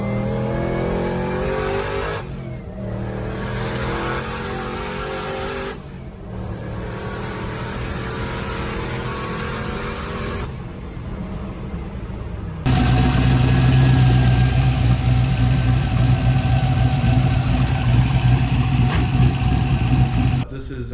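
LS-swapped 1968 Chevrolet C10 truck with a loud V8 rumbling at idle, broken by several sharp throttle revs that dip and recover, then a steady heavier roar near the end.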